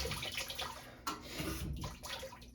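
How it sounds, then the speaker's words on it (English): A GE stackable washing machine runs water into its drum before starting, a soft rushing flow with a few fluctuations, fairly quiet and heard alone. "These machines always run a little bit of water before doing anything. I hear it."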